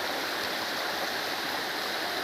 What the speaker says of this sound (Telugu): నీళ్ళు దుమికే సౌండ్ అంటే నీళ్ళు దుమికేది ఎంత బాగుంది